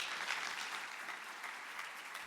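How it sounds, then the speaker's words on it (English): Audience at an energy policy summit gives a steady, even round of applause, moderately distant and filling the whole stretch without speech. "Give Katherine one more round of applause."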